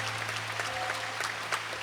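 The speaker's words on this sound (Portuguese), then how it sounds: "Uma salva de palmas para eles." A church congregation applauds for the deaf ministry during a worship service, steady dense clapping from many hands filling the space without pause.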